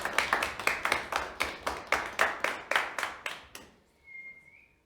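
Around a dozen crisp hand claps land in an even, quick rhythm, close and clear, then stop, followed by a short rising whistle and near silence.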